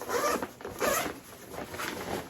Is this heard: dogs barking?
no